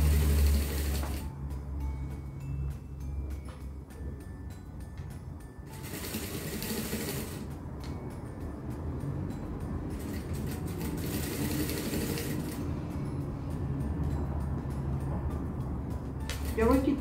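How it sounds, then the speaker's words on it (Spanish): A sewing machine stitches along the edge of a dress in several bursts of rapid, even whirring, separated by pauses, while someone talks quietly in Spanish. "Y me voy cosiendo a la orillita."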